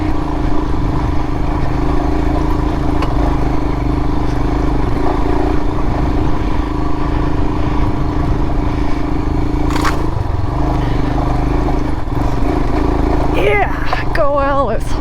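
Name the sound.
Royal Enfield Himalayan motorcycle riding off-road through bushes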